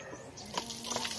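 Water splashes and runs from an outdoor pipe tap in a Wayanad tribal colony, a steady close hiss with a few brighter splashes over about a second.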